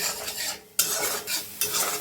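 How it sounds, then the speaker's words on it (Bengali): Spices with turmeric, chili powder and sea salt stirred and sautéed in mustard oil: a steady close sizzle with scraping stirs of a utensil in the pan, in brief repeated bursts. "মশলাটা কষিয়ে নিলাম ভালো করে।"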